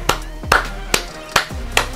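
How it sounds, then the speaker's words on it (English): Five crisp hand claps ring out close to the microphone in an even, unhurried rhythm, each one a sharp isolated crack with quiet gaps between them. "A round of applause for you"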